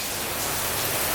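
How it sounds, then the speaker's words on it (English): Heavy rain pours down steadily outside, a dense, continuous hiss of downpour filling the background with no other sounds standing out. "Probably hear the rain in the background."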